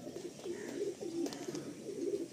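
Pigeons in a loft, soft repeated cooing in a low steady rhythm, fairly faint and close, with a few light rustles and no talk.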